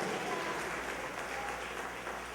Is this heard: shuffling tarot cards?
no